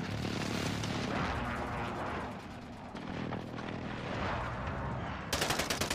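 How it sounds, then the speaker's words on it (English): A precision airstrike in a video game erupts in heavy, continuous explosions and rattling gunfire, a dense roaring barrage lasting several seconds and ending in sharp rapid bursts. "Be advised, friendly precision airstrike inbound."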